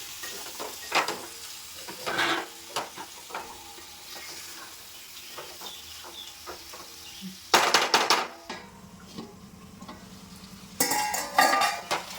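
Small fish sizzling in a frying pan for a fish curry, with intermittent stirring clatter and utensil clinks against the pan at close range, no talking.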